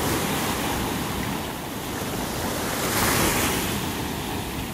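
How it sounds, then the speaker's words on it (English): Large ocean waves breaking on a beach in North Naples, Florida: a continuous loud surf roar swelling near the end, mixed with wind buffeting the microphone, no voices. "Seeing some gigantic waves there. Gigantic for this beach."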